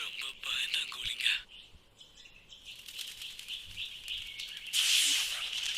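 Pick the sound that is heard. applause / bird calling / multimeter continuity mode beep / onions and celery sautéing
bird calling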